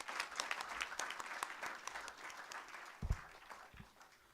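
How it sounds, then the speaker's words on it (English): Conference audience at a business school awards event gives a round of applause, moderate clapping from a modest crowd that tapers off, punctuated by a couple of low bumps near the end. "Can we have a round of applause for Sir?"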